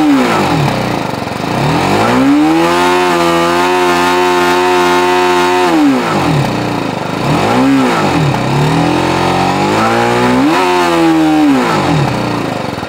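BMW G310 GS single-cylinder motorcycle engine under riding load, revving up and down through repeated rises and dips in pitch as it accelerates and shifts, loud and close throughout with no talking.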